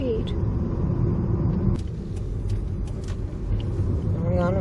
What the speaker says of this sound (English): We're on a freeway.